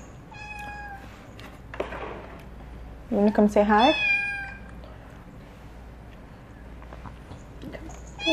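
A pet cat meows several times in a kitchen, with a louder cluster of harmonic meows in the middle, while a person speaks quietly over a steady background hum.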